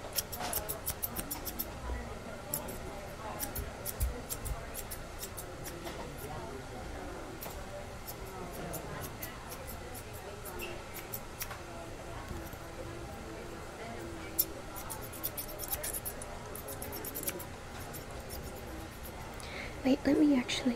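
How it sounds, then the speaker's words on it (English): Scissors snip in quick, dense clusters of crisp clicks while trimming a beard up close in a quiet barber shop setting, with a soft voice talking intermittently. "I need to trim your beard as well"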